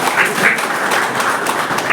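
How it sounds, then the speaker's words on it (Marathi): An audience at a college fresher party claps together in a dense, steady burst of applause, loud and close, with no talk over it. "सगळ्यांनी टाळ्या वाजवा"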